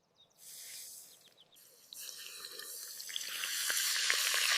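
Meat for a Philly cheesesteak sizzles in a pan outdoors in a forest, a hissing fry that starts softly and grows steadily louder and brighter, close and without talk.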